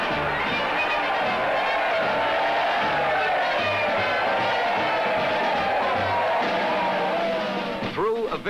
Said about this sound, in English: They sailed returning troop ships, their decks alive with cheering men.